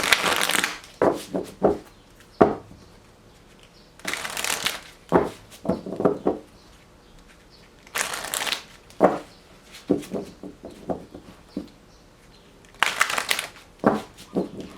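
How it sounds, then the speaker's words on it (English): Tarot cards shuffled by hand in repeated bursts, crisp riffling flutters and slaps, close and loud, with short pauses between each shuffle. "All right, 3 shuffles for Cancer."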